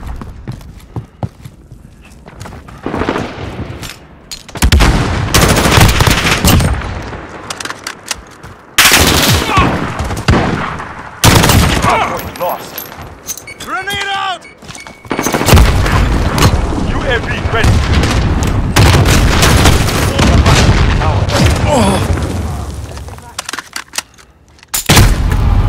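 Loud bursts of automatic gunfire and booming explosions from a Call of Duty: Modern Warfare hardpoint match come in repeated heavy volleys, close and dense, with brief quieter gaps and some game voices.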